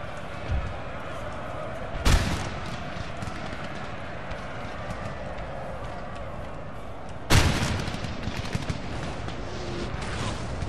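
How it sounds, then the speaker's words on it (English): Muskets fire in a Napoleon Total War battle. Two sharp volleys crack out roughly five seconds apart over a steady din of distant battle noise and scattered smaller shots. "Yep, they're firing on us into the wood line."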